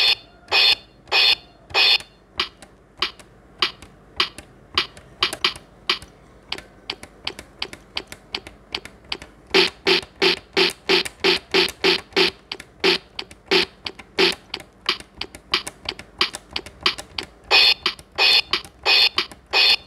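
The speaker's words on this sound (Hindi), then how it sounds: "देखिए ड्रम साउंड आ रहा है ना" Rapid plastic key presses on an Intern INT-KB 3701 toy keyboard trigger a steady string of short, sharp percussive drum hits, close and loud, with no talk.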